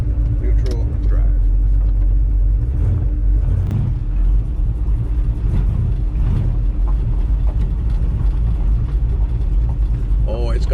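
A 1965 Ford Falcon with an automatic transmission pulling away, its engine a loud, close, continuous low rumble with some squeaks, while someone talks over it.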